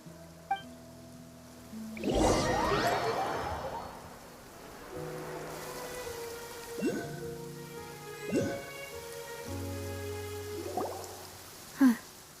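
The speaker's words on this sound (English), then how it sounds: "It's been raining non-stop for a few days now." Steady rain patters in the background of a Genshin Impact scene, with music tones, a swelling whoosh and a few sharp effects layered over it.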